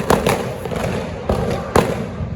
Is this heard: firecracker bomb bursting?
yes